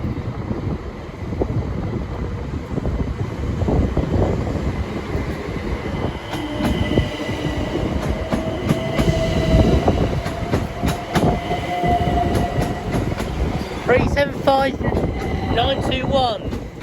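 A Southeastern Class 375 electric multiple unit departs Ashford International, rumbling and clattering over the rails with rhythmic wheel thumps, a rising motor tone and high wheel squeals near the end, with a voice talking over it.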